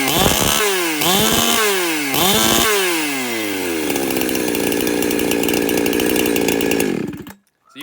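A chainsaw engine revs hard at wide open throttle during carburetor tuning, sweeping up and down in several rising bursts before holding a high, rattly scream and then cutting off abruptly.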